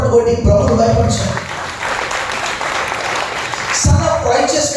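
A church congregation at a Sunday worship service claps loudly. A dense stretch of applause sits between passages of a speaking voice, so the clapping overlaps talk at the start and the end.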